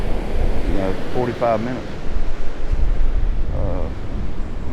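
Rough, churning ocean surf and gusting wind roar steadily close to the microphone, broken by someone speaking briefly over the noise.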